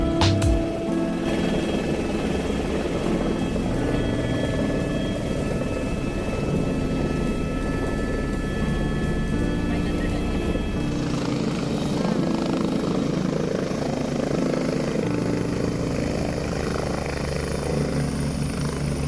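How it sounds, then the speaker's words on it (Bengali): A helicopter sets down at the Kedarnath helipad, its rotor and engine roaring loud and steady at close range throughout, the pitch shifting partway as it settles. "হেলিকপ্টারটি এবার আস্তে আস্তে হেলিপ্যাডের নির্দিষ্ট জায়গায় থেমে গেল"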